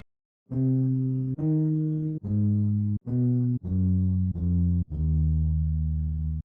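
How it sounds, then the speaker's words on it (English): Seven separate synthesized bass notes play one after another, each a raw buzzy tone held briefly, with short gaps between them. "our bass one shot sounds like this"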